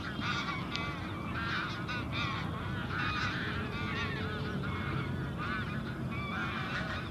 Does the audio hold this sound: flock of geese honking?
yes